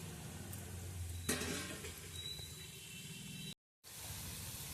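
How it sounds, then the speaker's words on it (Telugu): Amaranth leaf pakoda sizzling in hot oil just after being flipped, a steady close frying hiss with a sharp burst of crackle partway through, then a brief silent gap before the sizzle resumes. "ఇలా తిప్పి 2 పక్కన కాలనివ్వాలి"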